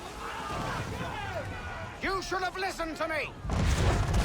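Booming ship cannon shots in an Assassin's Creed 3 naval battle, several blasts over choppy water and noise, with voices shouting in between.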